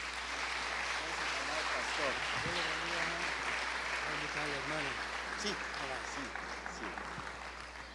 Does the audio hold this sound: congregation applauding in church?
yes